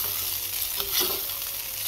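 Jeera rice in a hot pan is stirred with a spoon, giving soft scraping strokes over a constant frying sizzle, close and fairly loud, with no talk.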